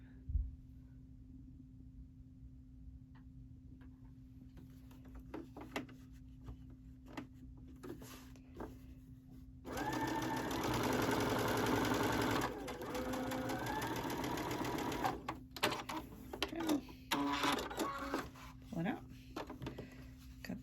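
Sewing machine stitching right-sides-together strips into a continuous bias binding for a quilt, a steady loud run of several seconds in the middle, with short bursts before and after and a constant low hum underneath.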